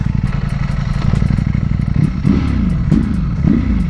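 Ducati Panigale V4 SP2 motorcycle engine running loud and close, a steady low rumble with repeated revving swells and downshift blips in its final seconds.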